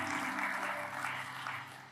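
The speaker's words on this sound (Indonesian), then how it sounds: "Kasih tepuk tangan dong." An audience claps at a Sunday church service, with sustained applause from a large crowd in a reverberant hall that fades slightly toward the end, with no voices heard.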